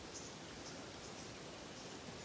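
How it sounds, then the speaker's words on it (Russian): Rain falling outside a cabin in the taiga makes a steady, even hiss that stays soft and unbroken throughout. "пошел у нас дождь"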